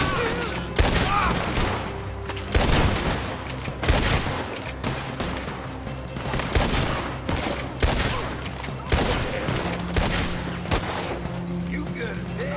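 Repeated bursts of gunfire and heavy volleys in Red Dead Redemption 2 crackle through a dense, chaotic firefight, with booming shots every second or two over constant background noise, and voices shouting intermittently beneath.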